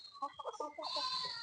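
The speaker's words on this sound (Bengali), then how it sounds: "দেখো বন্ধুরা, আমাদের মুরগিগুলো কত সুন্দর খাচ্ছে।" Chickens cluck softly while eating in a farmyard, a short burst of close, quiet clucks and calls, with a faint voice in the background.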